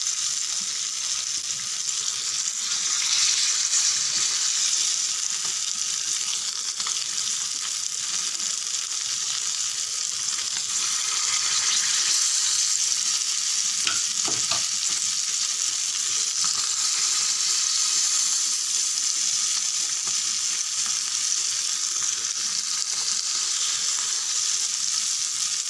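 Sankara fish frying in a pan of hot oil gives a steady, dense sizzle that runs unbroken throughout, with a brief stirring disturbance midway and no talking.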